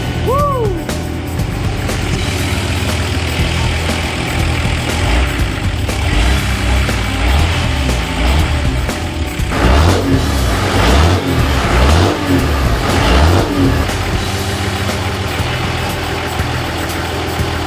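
An old Toyota 2H diesel engine runs just after start-up, a loud, close, rough idle with a few revs rising and falling midway, and a voice briefly heard over it.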